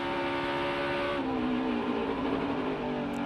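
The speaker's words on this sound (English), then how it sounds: "Listen to how long they're on the throttle here." A NASCAR Xfinity Series race car holds full throttle down a long straightaway, its engine a steady, loud sustained drone with a pitch shift partway through, with no talk over it.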